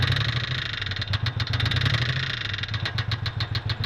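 A 1994 Geo Metro XFi with 267,000 miles and a missing cylinder revs up close, its small engine pulsing with an uneven, stuttering beat as the throttle rises and falls, with no voices over it.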